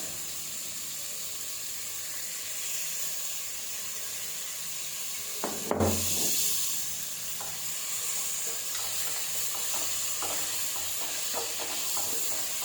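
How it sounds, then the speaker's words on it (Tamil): Tomatoes and ginger garlic paste sauté in a pan for mushroom biryani, giving a steady close sizzle throughout, with a brief clattering stir near the middle and no talking. "போட்டு அதையும் வதக்கலாம்"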